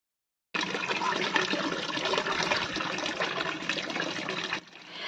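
Water pouring into a bucket to dilute liquid plant fertilizer, a steady splashing gush that starts abruptly, runs for several seconds and then drops to a quieter trickle.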